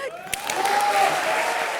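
A studio audience breaking into applause on a comedy show, a brief burst of crowd clapping with a faint tonal sound running underneath.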